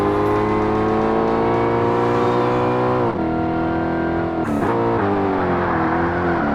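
Koenigsegg supercar in the 2005 Forza Motorsport racing game accelerates hard, its engine whine climbing through the gears with a shift dip midway, loud and continuous with no talk.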